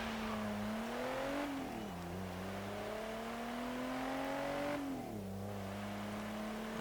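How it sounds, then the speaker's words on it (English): A 1990 Renault Alpine GTA Le Mans, a French sports car in Forza Horizon 3, revs up through the gears. Its engine note climbs steadily, drops briefly at each shift and then climbs again, loud and continuous, with no voices. "So let's see what this French sports car can do."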